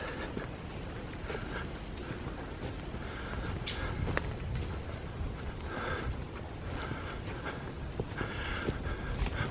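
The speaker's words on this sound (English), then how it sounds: "I'm not good on bird noises." Wild birds call outdoors in a wooded area, giving several short chirps and whistled notes at moderate distance over a steady rustling background, with footsteps faintly audible.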